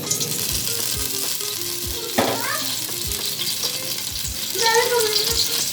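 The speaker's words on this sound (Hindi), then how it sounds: "अब हम सबसे पहले डालेंगे इसमें ऑयल" Oil heats and sizzles in a pot for chicken karahi, a steady close frying hiss with occasional stirring knocks and scrapes.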